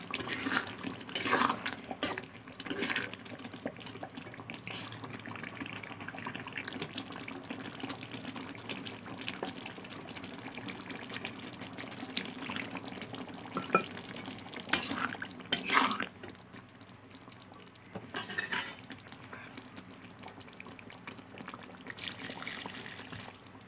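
Water poured into a pan while cooking chicken patrapoda pitha, soft trickling and dribbling with a few louder splashy bursts, close and fairly quiet, no talking.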